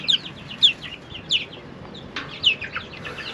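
Chickens, likely roosters, cluck and squawk in short repeated bursts, moderately near, over a low outdoor background.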